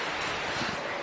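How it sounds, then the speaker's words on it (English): Wind rushes past a balcony at Disney's Bay Lake Tower overlooking Bay Lake, a short burst of dense, even hiss. "it's windy out there"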